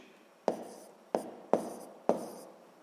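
Four quick pen strokes tap and scratch on paper as figures are written down, evenly spaced and close, in an otherwise quiet room.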